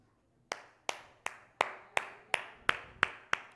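Steady, sharp hand claps in an even rhythm, about three per second, crisp and close with a slight room echo and no talking, at a worship session at a church camp.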